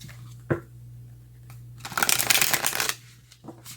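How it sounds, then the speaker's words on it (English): A deck of tarot cards is shuffled close up: a sharp tap, then a dense riffling burst lasting about a second, followed by a few lighter card taps over a low background hum. "Let's get some tarot and see what the tarot would like to share."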